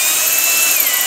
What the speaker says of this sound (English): So I actually took a drill and just cleaned out those holes